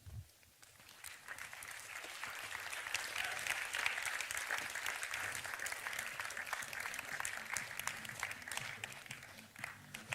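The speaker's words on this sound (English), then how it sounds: "The clapping and the walk was kind of disconnected" Audience applause at a motivational keynote talk as a guest walks onto the stage, steady dense clapping from a crowd that swells after the first second and holds for about ten seconds.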